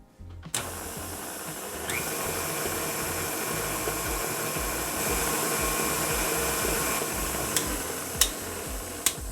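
An electric hand mixer whirs steadily and fairly loudly through hot cocoa cookie dough, a continuous motor drone with a few sharp clicks and taps against the bowl near the end.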